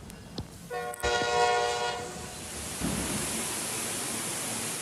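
A New York City subway train blasts its horn in one sustained multi-tone call lasting about a second, followed by a steady rumbling wash of rail and rushing noise, with no voices.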